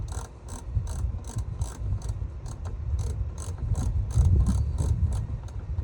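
A ratchet clicks rapidly and steadily as a glue-coated bolt is threaded into a rivet nut on a Mazda Miata, the sharp mechanical clicks repeating evenly over a low, close rumble.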